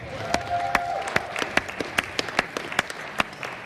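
A gym audience gives a round of applause at a volleyball blocking clinic: a steady run of sharp, fairly sparse claps with no voices over it.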